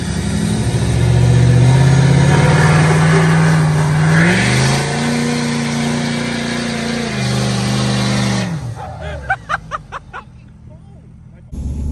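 A SEMA Ram truck's engine roars loudly during a burnout, holding a high rev before the pitch drops and settles, then fades into rattling, clattering bursts. Voices and crowd noise mix in underneath.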